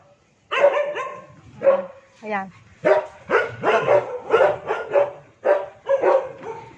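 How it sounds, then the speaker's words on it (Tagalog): Street dogs bark repeatedly at feeding time, a close, loud series of sharp barks and yips spread across several seconds, with someone speaking briefly in between. "Ayan po, may aso."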